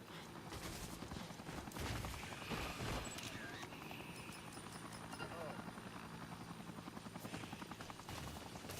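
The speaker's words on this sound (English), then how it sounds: "So you can hear the army helicopter." An army helicopter's steady rotor thump chops along throughout in the video game Dead Rising, with scattered clatter and bursts of game sound effects layered over it.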